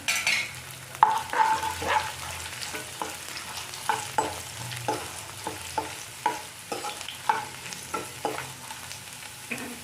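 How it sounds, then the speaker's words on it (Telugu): Garlic and turmeric frying in oil for Andhra-style tomato pickle, a steady close sizzle broken by repeated scraping stirs of a spoon against the pan, with no talking. "వెల్లుల్లి ఇవన్నీ వేసుకొని ఫ్రై చేసుకోవాలి"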